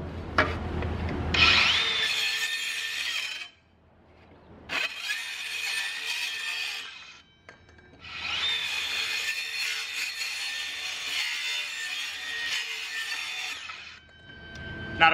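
DEWALT Atomic 20V cordless circular saw cutting through ABS plastic: two loud, sustained whining cuts with a short pause between them, each starting with a rising spin-up and ending abruptly.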